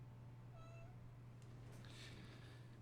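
A house cat meows several times indoors, faint against a steady low electrical hum, with a short tonal cry followed by a louder, rougher call; no one speaks.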